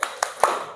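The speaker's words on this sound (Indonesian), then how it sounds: "Oke, kita mulai 3 kali tepuk semangat." A school class performing a rhythmic spirit clap, three sharp, loud, evenly spaced claps in quick succession, close by.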